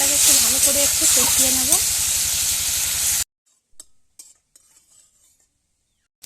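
Spice paste with red chili powder being sautéed in a pan for a cabbage curry, a loud steady sizzle and hiss with scraping stirs for about three seconds, then near silence with a few faint utensil knocks.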